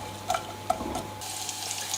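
A soft sizzle of onions frying in oil in a pan, with a few light clinks and stirring taps, fairly close and without speech.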